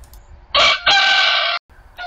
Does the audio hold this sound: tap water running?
no